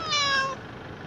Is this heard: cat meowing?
yes